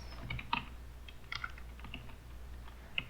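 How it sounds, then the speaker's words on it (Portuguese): Someone types on a computer keyboard, soft irregular key clicks close by over a faint hum, with no talking. "estou com um teclado diferente"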